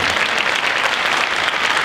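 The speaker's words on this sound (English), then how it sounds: "Let's give them a round of applause." Steady, dense applause from a school band concert audience, with many hands clapping continuously at an even level throughout.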